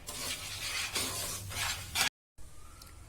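Powdered sugar being stirred into khoya mawa in a pan, a steady scraping and rustling stir that runs close and fairly loud before a brief gap, then a quieter stretch of stirring.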